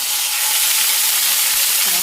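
Dried red chillies, seasoning seeds and a little ginger-garlic paste hit hot oil as a tempering for cabbage, a loud, close, continuous crackling sizzle with no pause.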